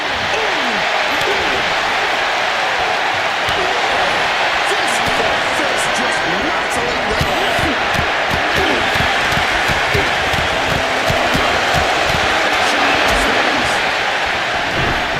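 A roaring crowd in the video game WWE 2K26 cheers continuously under a commentator's excited voice, with dense, steady noise throughout.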